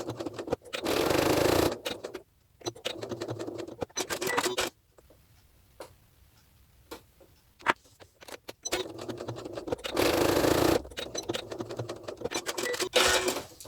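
Sewing machine stitching across cork, several bursts of rapid stitching chatter separated by quiet pauses and soft handling clicks.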